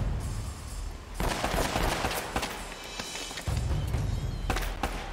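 Shotgun gunfire in Uncharted: Drake's Fortune comes as dense, loud blasts and crackling bursts in a running firefight, close and heavy from start to finish.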